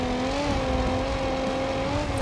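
A Gambler 500 car in the BeamNG driving game accelerates with a steady, loud engine drone that holds a fairly even pitch, with a brief sharp noise at the very end.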